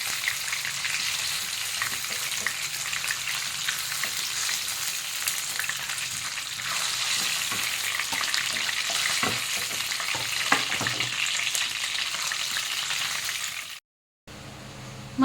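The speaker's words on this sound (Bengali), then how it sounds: "আমি এইভাবেই এক এক করে সব মাছগুলো ভেজে নেব।" Pieces of stingray fish fry in a pan with a steady, dense sizzle and crackle throughout, with occasional louder pops and spatters up close, before a sudden brief cut near the end.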